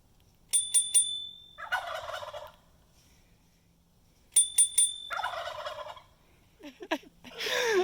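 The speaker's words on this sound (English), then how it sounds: "Horny turkeys responding to bicycle bell." A bicycle bell rings twice in quick strokes, and each time a chorus of turkeys answers with a burst of rapid gobbling, with more gobbling building at the end.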